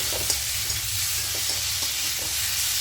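Mustard and green chilli paste being stirred into a frying small-fish curry with potato, onion and tomato, a steady close sizzle and hiss with soft scraping stirs throughout.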